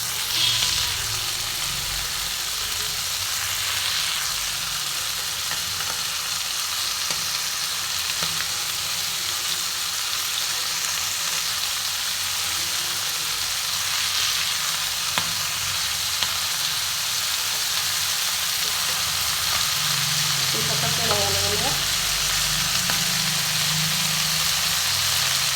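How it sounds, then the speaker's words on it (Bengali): Chopped Malabar spinach going into a pan where potato, pumpkin and liver are frying in spices, a continuous close sizzle with occasional stirring and utensil clinks. "এবার আমি কুচিয়ে রাখা পুঁই শাকটা দিয়ে দেবো।"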